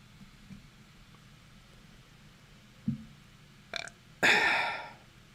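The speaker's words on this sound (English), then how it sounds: "That was a weak burp." A single burp, short and fairly loud, comes near the end. A couple of small clicks precede it against faint room noise.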